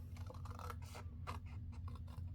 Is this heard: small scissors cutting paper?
yes